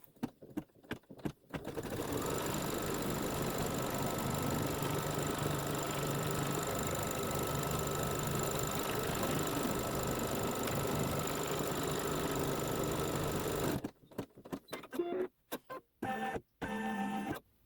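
A sewing machine stitches a Santa's Workshop quilt block in a steady, even mechanical whir that runs unbroken for about twelve seconds. Scattered clicks and knocks come just before and after.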